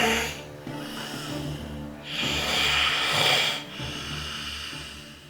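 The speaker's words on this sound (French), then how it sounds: "tout le monde se ronflait dessus" Several people snoring in a room, slow rasping inhales and exhales rising and falling in long, uneven waves, close and fairly loud, with no talking.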